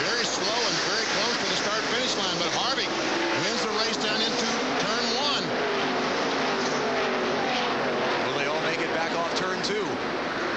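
NASCAR Busch Series race cars roar around Darlington at the start of the Winn-Dixie 200, a dense, continuous wall of engine noise with passing whines, a crowd beneath, and a commentator talking over it.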